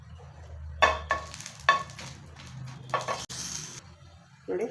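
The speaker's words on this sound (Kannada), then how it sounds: "ಈಗ ಸ್ವಲ್ಪ ಎಣ್ಣೆ ಹಾಕಿ ನಾವು ಗುಂಟೂರು ಮೆಣಸಿನ್ಕಾಯಿ ಹುರ್ಕೊಳ್ಳೋಣ" Guntur red chillies frying in a little oil in a pan, with several bursts of crackling sizzle and stirring scrapes separated by quieter gaps, plus a final short clatter.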